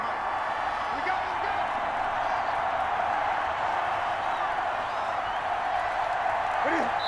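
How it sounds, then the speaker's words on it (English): Home crowd applauding and cheering in Madden NFL 21 during a Minnesota Vikings vs New England Patriots exhibition game, a steady broad roar of clapping and cheers under a commentator's voice. "the home crowd applauding"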